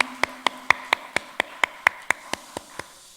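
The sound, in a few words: church congregation clapping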